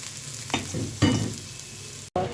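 Turmeric, coriander, chilli powder and garam masala fry in a pan with stirring, a steady sizzle broken by a few louder scrapes and clatters of a spoon against the pan, close by with no talking.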